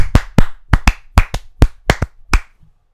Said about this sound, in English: I will do some hand claps